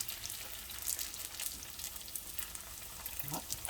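Collard green spring rolls frying in hot oil, a steady close sizzle with crackling spits and small pops throughout, no talking.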